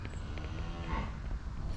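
A cow on a sheep farm lets out a single drawn-out moo at close range, rising and then falling in pitch over a couple of seconds, with faint outdoor rumble underneath.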